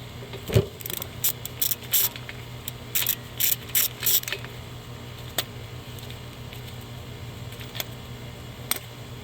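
A ratchet wrench works a 14 mm brake caliper bolt on a 2013 Dodge Dart, clicking in quick bursts of rapid ticks, close and clear, with a metallic knock early and scattered single clicks afterward over a low steady hum.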